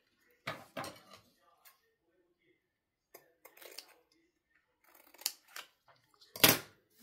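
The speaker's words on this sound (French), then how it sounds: "Je vais le couper." Scissors snipping through material during a junk journal craft session, a few quiet separate cuts and handling clicks spread out, ending with one louder snip, in a quiet room.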